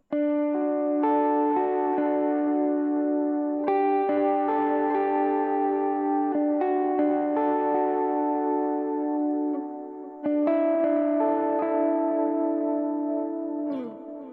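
Electric guitar played through a Quad Cortex with reverb and delay, a clean line of ringing notes and chords that decay into lingering echoes, steady and close with no talking.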